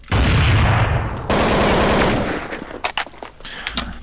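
Rapid automatic gunfire from a Counter-Strike 1.6 match on the cpl_mill map, loud and sustained for over two seconds with a brief break, then trailing into scattered shots and game noise.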